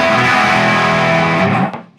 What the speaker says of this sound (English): I have a Fat Drive, which is a great distortion pedal